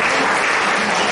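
A crowd at the final round of an antakshari singing competition gives finalist teams a short, dense round of applause, close and continuous for just over a second.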